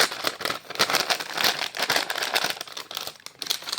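Gift packages being torn open, with close, continuous crinkling and rustling of wrapping paper in busy, uneven bursts and no voices.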